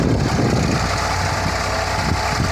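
A 40 HP tractor deep-plowing a harvested farm field runs with a steady, loud engine drone that holds even throughout, with no talk over it.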